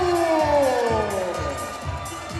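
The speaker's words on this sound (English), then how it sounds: "a massive round of applause for his opponent here tonight, Will Wright." A crowd at a live fight event roars and cheers after a unanimous decision is announced, a loud sustained wash of voices that eases slightly toward the end, with an announcer's voice carrying over the top.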